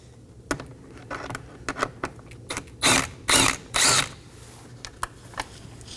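A ratchet driving an 8mm socket loosens fasteners on a 2020-2027 Toyota Corolla grille mounting panel, giving bursts of quick clicking near the microphone, three longer rattling runs in the middle, with short taps between and no talk.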